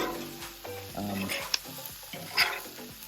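Meat for a Philly cheesesteak sizzling on a flat top grill, a steady crackling hiss with occasional sharp spatula scrapes and taps, moderately quiet, with a voice speaking briefly over it.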